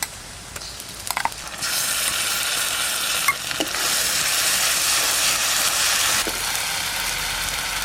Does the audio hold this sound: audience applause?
no